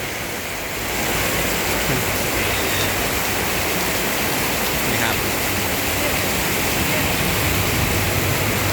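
Heavy rain pours outdoors along a roadside, a dense, loud, continuous hiss that swells in after a brief quieter start and holds steady throughout.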